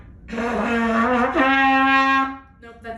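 A trumpet plays a lip slur with the first and third valves down, one sustained brassy tone that bends and steps up to a higher note and holds it, close and fairly loud, then a short softer note follows.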